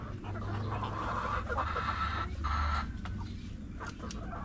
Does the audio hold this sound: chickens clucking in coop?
yes